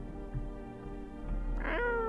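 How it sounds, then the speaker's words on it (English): A cat meows once in a video game, a single rising, fairly clear cry near the end, heard over a low steady background hum. "Hey, how you doing, Kitty?"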